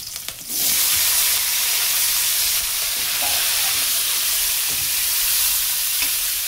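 Tree sorrel (bimbul) dropped into a hot pan for a Konkani curry with bitter gourd, giving a sudden loud sizzle that settles into a steady, close frying hiss with faint stirring.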